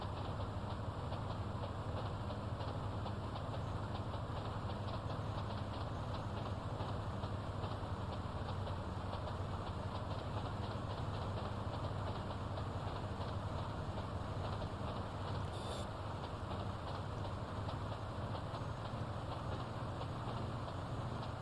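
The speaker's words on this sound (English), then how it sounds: "And how do you know when the train is going to derail?" A train running on rails in GTA Definitive Edition gives a steady, loud, continuous rumble with a regular clattering rhythm of wheels over track joints, heard alone without talk.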